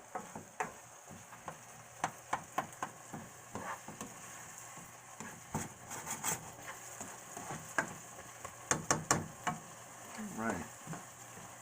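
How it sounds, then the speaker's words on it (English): Onions and garlic frying in a pan for shrimp risotto, a steady low sizzle with scattered clicks and scrapes of stirring, fairly quiet and close, with a brief spoken word. "I'm going to do some onions, garlic, and shrimp. It's really starting to cook down now."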